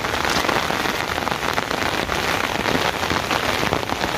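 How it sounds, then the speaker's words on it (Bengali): Heavy rain falls steadily on the ground outdoors, a dense, loud, continuous patter with no break and no voices. "বৃষ্টির ভিতরে আসছি"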